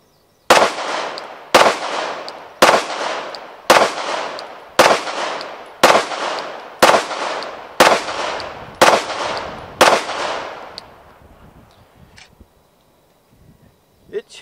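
Ten sharp shots from a Glock Model 49 pistol ring out at an even, deliberate pace on a range, each crack loud and close with a short decaying echo, followed by quiet with faint movement.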